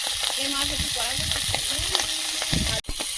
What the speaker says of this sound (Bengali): মাছ ভাজতে এত দেরি হচ্ছে কেন